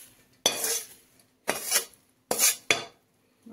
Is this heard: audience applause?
no